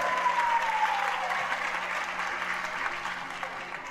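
Audience applause at a live music show, a broad continuous patter of clapping from a large crowd heard at a moderate distance, steady and gradually easing, with a faint tone running underneath.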